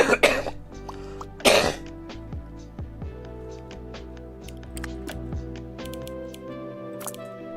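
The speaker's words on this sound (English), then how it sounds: "I'm sorry for coughing a bunch here." Several harsh coughs and throat clearing burst out near the start, then give way to quieter clicks and tapping with a faint tonal hum.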